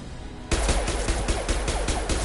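Video game gunfire breaks out suddenly after a quiet start, a rapid, regular string of loud, close shots continuing to the end.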